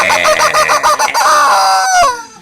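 A voice imitates a chicken, a loud run of rapid clucks that rises into a drawn-out squawk, then cuts off.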